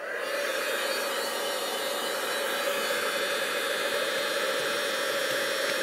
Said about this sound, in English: Let's just give it a wee blast with the heat tool.